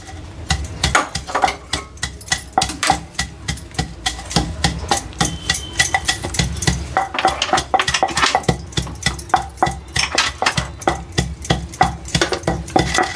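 Roasted spices pounded into powder with a pestle for a Telangana-style fish curry made in a clay pot, a steady run of sharp, rhythmic thuds repeating close and loud without pause.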